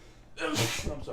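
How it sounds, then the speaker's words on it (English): A single sharp sneeze bursts out close by, followed by a brief mumbled apology. "I was mesmerized by your sneeze."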